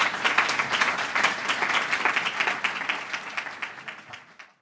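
An audience at a lecture-series event in East Hampton applauds warmly, many hands clapping in a full, steady wash that gradually thins and fades out at the end.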